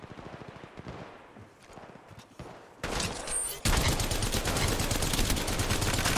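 Rapid gunfire in the battle royale game Apex Legends Mobile, starting with scattered close shots and building into dense, loud sustained automatic bursts that fill the second half.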